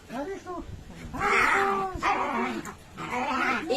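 A dog named Sorry yips and whines noisily while playing with another dog at home, in short excited bursts and squeals, with a person talking over much of it.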